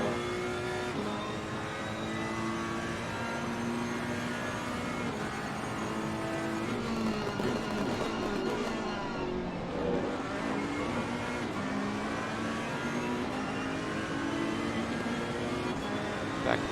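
Ferrari and Bentley race cars on the Zolder circuit during an endurance race. Engines drone loud and continuous for the whole stretch, with the pitch climbing and dropping as they accelerate and ease off, heard close and onboard.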